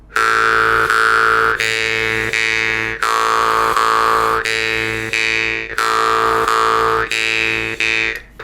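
A twangy jaw harp drones steadily while the player's breath alternates out and in every couple of beats, shifting the tone in a slow, regular pulse.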